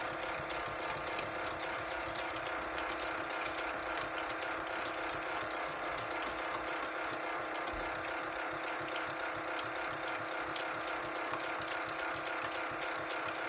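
Tide Juniors Home toy washing machine in its wash action, a faint, steady motorized whir with a light rhythmic mechanical ticking running continuously.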